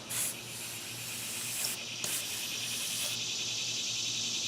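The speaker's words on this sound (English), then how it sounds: "we're going to spray a little on here and see what happens." An HVLP spray gun sprays lacquer in a steady, soft hiss with a brief sharper burst at the start, fairly quiet and unbroken, with no voices.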